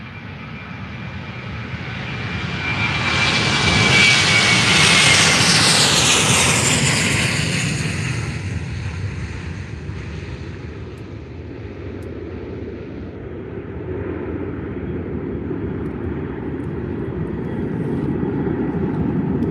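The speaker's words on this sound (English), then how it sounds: "the next plane is right now a Eurowings A321neo to Dusseldorf" A Eurowings Airbus A321neo jet departs Faro Airport, its loud engine roar swelling to a peak and then fading into a lingering distant rumble as the aircraft climbs away.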